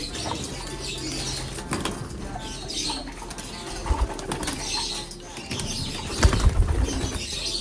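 Pigeon wings flap in several brief bursts against a steady background hum, with faint cooing and bird calls nearby and no clear speech.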